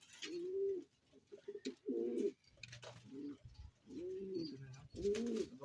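Several soft, low coos from breeding pigeons repeat in a steady rhythm, close by, with light rustling and faint chirps between the calls.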